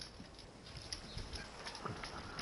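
Horse hooves clip-clop in a video game, a faint, fairly quick run of soft hoofbeats over steady background noise, with no speech.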